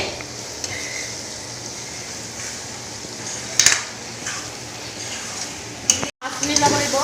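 Duck meat frying and stirred in hot oil in a home kitchen, a steady sizzle with scraping stir strokes and occasional utensil clinks against the pan, close and continuous.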